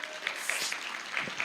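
A congregation applauds during an afternoon church worship service. The clapping is even and fairly soft, with distinct claps standing out from the crowd.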